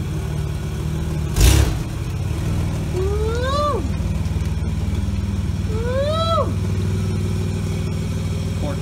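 A Nissan Z31 in reverse revs hard twice, each rise climbing sharply then dropping as the wheel spins, over a steady idle and a loud thump near the start; the car has an exhaust leak.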